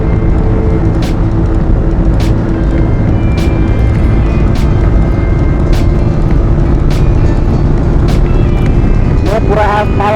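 A vehicle driven at full power while overtaking in a market area near Udaipur, a loud continuous engine roar with road noise and repeated sharp horn-like clicks, someone talking over it.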